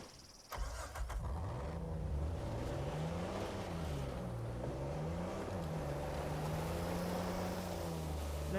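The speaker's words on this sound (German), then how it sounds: "jetzt stellst du den Motor ab" A vehicle engine in Uncharted 4 runs with a steady low hum that rises and falls over several seconds after a brief change near the start, continuous and fairly loud, no speech.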